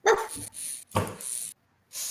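A man mimics dog barks with his voice during a tabletop role-playing game session, giving three short gruff woofs with breathy pauses between them, close to the microphone.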